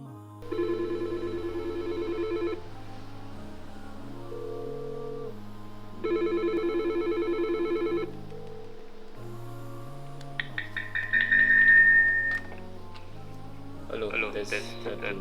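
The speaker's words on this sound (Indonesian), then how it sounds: "Menerima panggilan telepon dengan tombol speakerphone." An office desk telephone rings for an incoming call in repeated two-second bursts separated by pauses, over a steady background tone, followed by a few short beeps as the speakerphone button is pressed.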